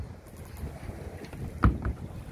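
Strong wind buffeting a sailboat at sea, a steady rushing roar across the microphone with one brief sharp thump or flap partway through.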